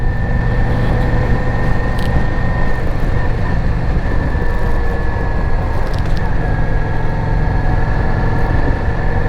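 A Harley-Davidson motorcycle, the cheapest model at the dealership, being ridden at steady speed, a loud continuous engine drone with wind rush, close and unbroken throughout.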